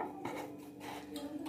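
Boiled potatoes with salt stirred and tossed in a pan for dum aloo; a steady run of close scraping clinks as the spoon works against the metal pan, with no voice.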